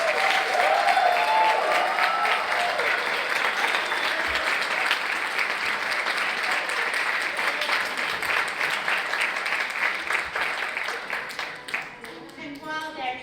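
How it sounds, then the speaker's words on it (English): Graduation audience at an adult learning center giving a sustained round of dense applause, loud and even for over ten seconds before thinning toward the end. "Let's give them another round of applause."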